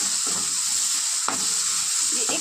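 Tomato and onion with turmeric sizzle steadily in a pan as a spoon stirs them, a close, continuous frying hiss broken by a few sharper scrapes of the utensil.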